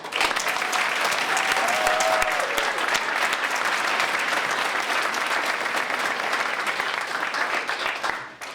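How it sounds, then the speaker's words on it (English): A large audience at a graduation ceremony claps loudly and continuously, a dense even wash of applause that holds strong before tapering off at the very end. "One last round of applause."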